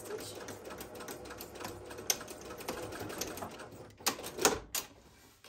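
A sewing machine stitches a tote seam from top to bottom in rapid bursts of mechanical clatter, close and fairly quiet, with a few louder thumps near the end.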